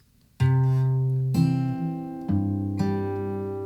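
Acoustic guitar fingerpicking, a finger plucking the 3rd string among a repeating picked pattern: four clear plucked notes with sharp attacks, each ringing and decaying into the next, close and alone without talk.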